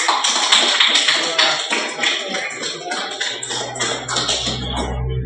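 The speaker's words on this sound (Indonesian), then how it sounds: "Mari kita berikan aplaus" Indoor class audience applauding together, a lively burst of close hand claps that gradually thins out, with a low hum entering toward the end.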